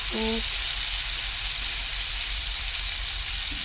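Spice paste of poppy seeds fries in a pan for a shahi paneer, a loud, steady sizzling hiss throughout, with a brief tonal beep near the start.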